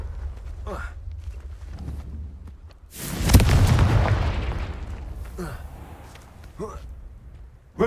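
A Confringo blast spell goes off in the video game Hogwarts Legacy: a sudden loud boom with a rumbling, crackling tail lasting a couple of seconds, set among quieter game effects and brief voiced spell calls.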